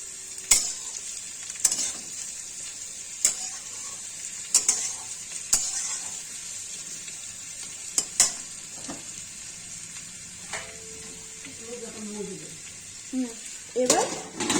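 Potatoes, onions and small kachki fish frying in a pan for a chorchori, with a soft steady sizzle under sharp utensil clinks and scraping stirs recurring every second or two.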